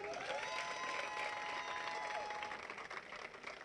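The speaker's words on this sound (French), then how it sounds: "Applaudissez pour Derek." Crowd at a political rally applauds for Derek, a dense, continuous wash of clapping with some cheering and whistle-like tones, steady throughout and tapering slightly at the end.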